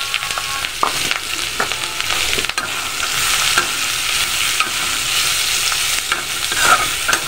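Bitter gourd, green chillies and onion fry in a little oil, producing a loud, steady sizzle with scattered stirring clicks close up.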